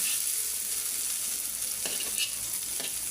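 Fish frying in oil makes a steady bright sizzle throughout, with a few faint scrapes or taps of a utensil in the pan partway through.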